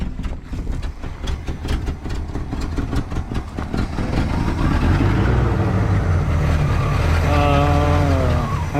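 A 1967 Pontiac Tempest station wagon engine struggling to idle, a close, loud, uneven rumble that surges and grows heavier partway through.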